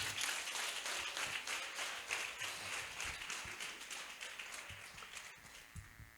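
A church congregation at an evening prayer camp applauds and cheers in acclamation, a dense, continuous wash of clapping that holds steady for several seconds and thins slightly toward the end.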